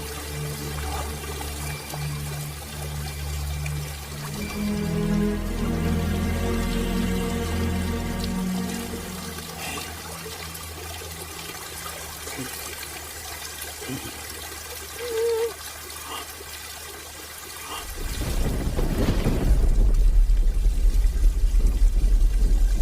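Water pours and trickles steadily, fairly close, for a long stretch. A louder, splashier gush comes near the end, and faint voices sound in the background.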